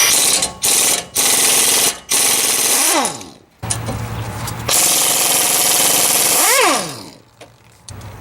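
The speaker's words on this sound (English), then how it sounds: "remove the bolts that hold on the caliper mounting bracket, which is these two right here." Impact wrench spinning out the 18 mm caliper mounting bracket bolts, held with Loctite, on a 2010 Chevrolet Silverado during a brake pad and rotor job: several loud, close rattling bursts separated by short pauses, with a few ratcheting clicks between them.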